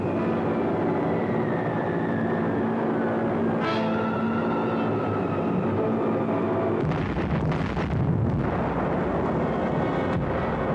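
A Consolidated B-24 bomber drones steadily over Messina as its bombs fall, then heavy rumbling explosions swell and roll on below the engine roar, with no voices.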